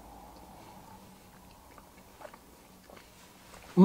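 Soft, close chewing of a Charleston Chew chocolate-flavoured nougat candy, quiet moist mouth sounds with a few small bites, ending in a brief louder burst.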